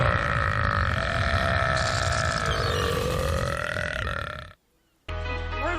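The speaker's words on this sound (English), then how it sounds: "Your burps are like the sweetest." A female animated character lets out a long, loud, drawn-out burp that dominates the clip, followed by a brief silence and then a short burst of other sound.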